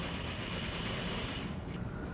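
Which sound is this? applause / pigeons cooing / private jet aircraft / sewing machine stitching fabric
sewing machine stitching fabric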